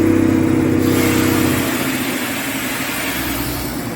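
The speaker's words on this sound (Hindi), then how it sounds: "सिलीगुड़ी लोको शेड का ये प्यारा सा छोटा सा खिलौने जैसा दिखने वाला डीजल इंजन ही ट्रेन को हॉल करता है" A small toy-train-style diesel locomotive of the Darjeeling Himalayan Railway from Siliguri loco shed runs with a loud, steady engine drone close by, easing slightly after the first seconds.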